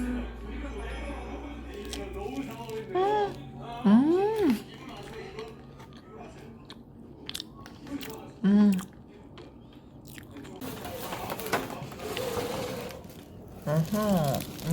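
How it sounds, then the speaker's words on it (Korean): An egg tart from a bakery is bitten and chewed up close, with soft crunchy bites and mouth sounds scattered among short spoken exclamations and hums. "여기가 아까 그 빵집에서 산 에그타르트인데 여기가 진짜 맛있어요"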